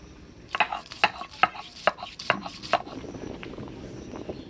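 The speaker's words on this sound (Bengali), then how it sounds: "মশলার মধ্যে আমি পেঁয়াজ রসুন আদা প্রথমে বাটি নেব" Onion, garlic and ginger being ground on a stone slab, heard as a series of about seven sharp, close knocking strokes in an uneven rhythm, followed by softer scraping as the grinding continues.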